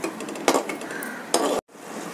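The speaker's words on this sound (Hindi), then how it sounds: "और 5 मिनट अब इसको भी भूनेंगे हम लोग।" Masala of spices with coriander and turmeric powder roasting in a pan for chicken hariyali, a dense sizzle broken by two loud spoon scrapes and clinks against the pan, then a brief cut-off before the sizzle resumes.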